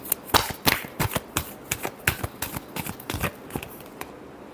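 Tarot cards being shuffled by hand: a quick run of crisp, papery riffles and taps in an uneven rhythm, close and fairly quiet, with no voices.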